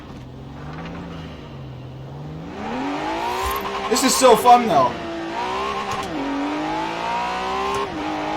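An engine in a racing video game played on a Thrustmaster TMX force feedback wheel revs hard, pitch climbing and dropping through gear changes, with a burst of tire squeal in the middle and someone talking over it.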